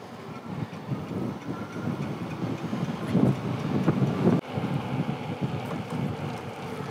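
An e-bike at full throttle nearing its 20 mph cap, with steady broadband wind rush buffeting the microphone and a continuous low rumble that swells slightly midway, briefly dips, then carries on; no talking.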